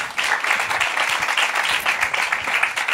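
Steady audience applause fills a hall, dense and fairly loud, with rapid overlapping hand claps sustained for the full stretch and no talk on top.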